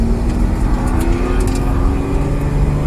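A Porsche engine with PDK paddle shifters drones steadily under load, a loud close interior hum with a slight pitch shift like a gear change near the end.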